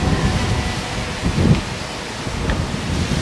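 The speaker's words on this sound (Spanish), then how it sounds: "Miren qué rico viento." Wind blows outdoors, buffeting the microphone with a steady low roar and a stronger gust midway through, with no talking.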